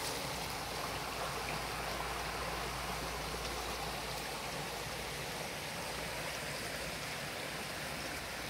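A stream flows steadily beside farmland at Láng Lớn, Châu Đức district, Bà Rịa–Vũng Tàu, its broadband rushing and gurgling constant and fairly close throughout with no voices.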